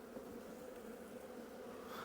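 Honeybees buzz steadily around a hive frame during swarming season, a dense, continuous drone that stays close and even throughout, with no voices.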